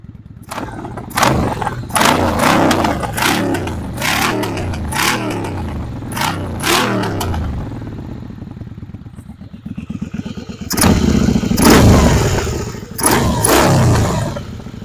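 A Kawasaki Vulcan 750 motorcycle engine runs and revs while being ridden after a stator replacement, loud and close with rising and falling throttle and several sharp surges near the end.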